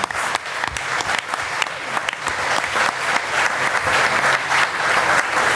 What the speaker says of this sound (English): Let's give one more time a round of applause for all the 12 inductees